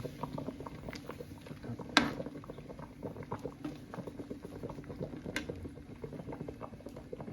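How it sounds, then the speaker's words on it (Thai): Tilapia fish soup with kaffir lime leaves bubbles steadily in a pot, a soft continuous boiling patter with one or two sharper clinks, close and moderately quiet with no talking. "เดี๋ยต้มไปได้สักพักแล้วค่อย คนไปเรื่อยครับ"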